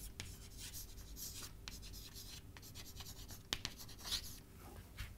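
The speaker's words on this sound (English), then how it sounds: "let me first write it down." Writing on a board during a lecture: soft, steady scratching and rubbing strokes with a few sharper taps, quiet and close, with no talking.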